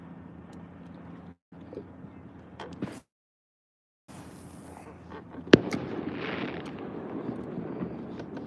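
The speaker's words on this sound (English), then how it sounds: "Fireworks going off everywhere." Fireworks going off during an outdoor bass fishing outing, heard as scattered distant pops and a sharp bang before a sustained rumbling crackle builds, with a brief dropout partway through.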